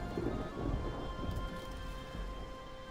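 Thunder rumbles low under steady, heavy rain during a storm at sea in Mount and Blade 2: Bannerlord, a continuous wash of rainfall over a faint droning tone, with no voices.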